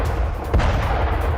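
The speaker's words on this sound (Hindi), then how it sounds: "आपको धमाकों की आवाज सुनाई दे रही होगी। एक के बाद एक धमाके," Missile-strike explosions in news footage: a single deep boom lands about midway, carried over a constant low rumble of distant noise.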